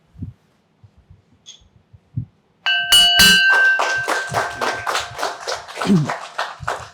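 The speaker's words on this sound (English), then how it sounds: "Sakshi, ring the bell now." A few faint taps, then a bell is struck and rings out bright and loud, followed by a burst of applause from a crowd.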